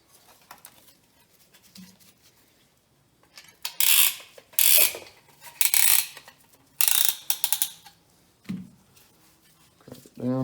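Piston being loaded into a ring compressor during a Ford 302 V8 engine build gives bursts of metallic ratcheting, clicking and scraping in the middle of the clip, with quieter handling noises before and after.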